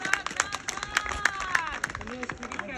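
A group of people claps at a workout on hilly ground near caves, several sharp hand claps in a quick, uneven burst with voices mixed in, close and lively.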